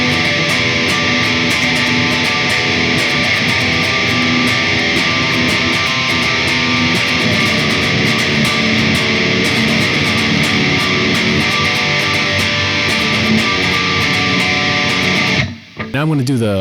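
Distorted electric guitar plays a chorus part: dense, saturated and loud, with fast picked notes running continuously for about fifteen seconds before stopping abruptly. It plays alone, without talk.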